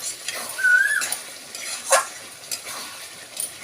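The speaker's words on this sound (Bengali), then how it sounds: "দেখুন, মাংস কষাতে তেল ছেড়ে দিয়েছে।" Meat stir-fried (kosha) in oil sizzles at a moderate level while a utensil scrapes and clinks against the pan in irregular strokes, with a brief squeak.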